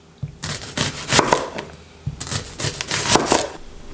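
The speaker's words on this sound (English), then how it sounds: "Red onion, big slices," A knife cutting a red onion into big slices on a board: two bursts of quick, crisp chopping strokes, close and fairly loud, separated by a brief pause.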